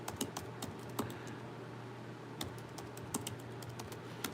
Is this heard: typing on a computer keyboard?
yes